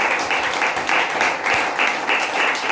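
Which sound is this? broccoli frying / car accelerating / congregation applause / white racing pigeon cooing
congregation applause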